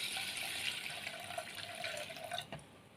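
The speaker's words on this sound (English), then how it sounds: "Add the rainwater into the pot with the rice." Rainwater poured into a cooking pot holding rice, a steady close splashing trickle of liquid that runs continuously for a few seconds and tapers at the end.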